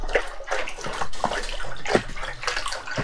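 Warm water splashing and sloshing into a separate tote for dissolving salt, a close, steady pouring rush with several stronger surges.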